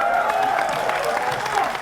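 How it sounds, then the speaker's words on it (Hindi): An audience applauds steadily, a dense, even wash of clapping that holds at full strength throughout, with a little crowd noise mixed in. "जोरदार ताली।"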